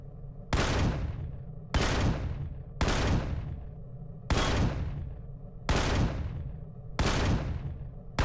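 A weapon fires in Empyrion Galactic Survival (Reforged Eden) to shoot out a ship's core: seven loud, booming blasts about a second apart, each trailing off in a roar.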